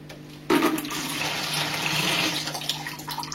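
Water poured into a bucket while moving a shrimp aquarium, a sudden steady rushing splash that starts abruptly and runs on for a few seconds, close and fairly loud.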